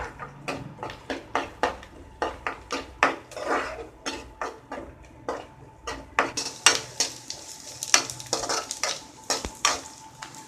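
Onions, green chilies and curry leaves sizzle in a pan for a fish gravy while a utensil stirs and scrapes in a steady, repeated rhythm of clicks over a constant low frying hiss.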